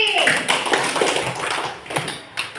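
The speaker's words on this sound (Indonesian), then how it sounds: "Coba tepuk tangan dulu buat Kiki." Schoolchildren in a classroom clap their hands in a burst of brisk, overlapping claps near by, with voices talking over and around the clapping.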